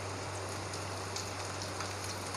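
A spice paste of tomatoes, garlic and ginger fries in oil with a dense, even, rain-like hiss that holds steady and close throughout, with no talk.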